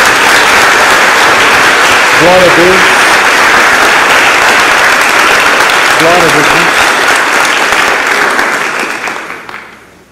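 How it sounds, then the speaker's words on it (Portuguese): A church congregation gives sustained applause in praise of Jesus during a service: dense, steady clapping fills the room while voices call out over it, and the sound fades away at the end. "É uma salva de palmas a Jesus."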